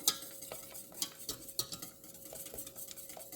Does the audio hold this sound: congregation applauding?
no